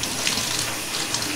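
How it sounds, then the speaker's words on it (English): Tap water runs steadily into a kitchen sink while a dyed stole is rinsed, a continuous close hiss and splash with no talk. "So in running water in the sink, nicely I will wash it."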